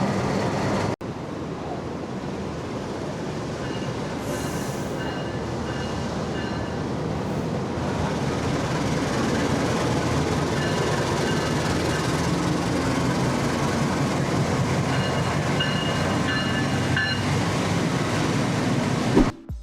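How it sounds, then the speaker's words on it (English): Gunung Jati passenger train rolling into an Indonesian station, a steady loud rumble of wheels and carriages that swells and holds for the whole stretch, with faint squeals above, ending in a sharp clunk. "Right behind us is the Gunung Jati train arriving."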